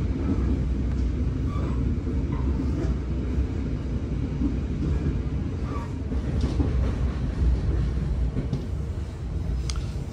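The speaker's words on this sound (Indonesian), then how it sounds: "Sekarang ini perjalanan kereta api Argo Merbabu tambahan melintas langsung di stasiun Cikampek." An Argo Merbabu passenger train runs through Cikampek station, a loud steady rumble with rhythmic clickety-clack of wheels over rail joints, carrying on for several seconds with no talk.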